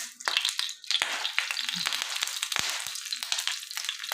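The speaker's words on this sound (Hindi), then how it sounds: "ये अब हम इसको ऑयल में डालेंगे।" Bread slices dropped into hot oil for a sweet bread dessert, giving a steady close sizzle and crackle with a few sharp clicks and scrapes, no voices.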